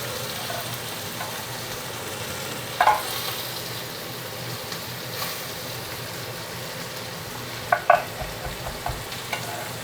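Pepper going into a frying pan for a butternut squash and sweet potato meal, a steady low sizzle and stirring with a couple of sharp clinks of utensil against the pan.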